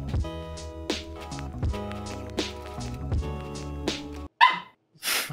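A dog barks in short repeated bursts, close and fairly loud, during an Escape from Tarkov gaming session, then gives a couple of sharper yelps after a brief silence.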